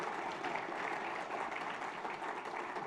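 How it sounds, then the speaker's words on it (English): Audience at a Bean Day awards and recognition session applauding, a dense, even patter of many hands heard from a distance at low level, continuing steadily without voices. "One more round of applause for Ken."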